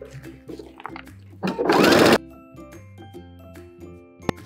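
Sewing machine running a short burst down the side seam of a clear vinyl raincoat, a loud dense whir lasting under a second amid quieter clicks and handling noise.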